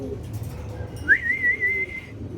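A male silver tota pigeon at a farm gives one drawn-out whistling call over a low background rumble.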